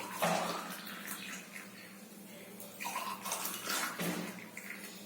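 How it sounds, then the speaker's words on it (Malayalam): Hibiscus tea pours into a glass close up, a soft splashing trickle that swells and fades in a few uneven gushes. "ഇപ്പം നമ്മുടെ ചെമ്പരത്തിപ്പൂവും വെള്ളവും കൂടെ തിളപ്പിച്ച് പഞ്ചസാര ഇട്ടത് ഈ ഗ്ലാസ്സിലോട്ട് ഒഴിക്കുക."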